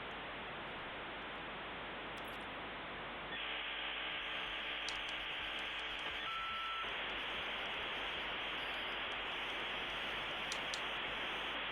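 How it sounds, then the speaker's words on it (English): Dial-up modem connecting, a loud, continuous hiss of static with a steady warbling tone layered in partway through, then back to harsh noise. "Are you not old enough to remember the sound of the dial-up?"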